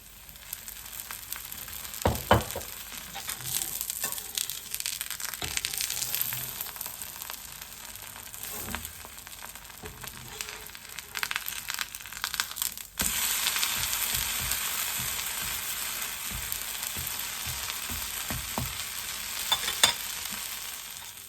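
Mint dosa sizzles in sesame oil on a dosa griddle, a steady close crackling hiss with occasional scraping and stirring sounds throughout.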